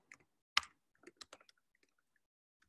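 Sparse clicks of keys being typed on a computer keyboard while entering an email address, a quick burst of taps then isolated, fainter keystrokes trailing off, no voices.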